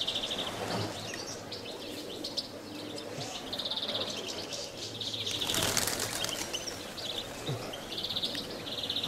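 A flock of diving pigeons in Kozani, Greece, takes off and flies overhead, their wings clattering in repeated bursts with a loud rush around the middle, mixed with scattered chirps and a few coos.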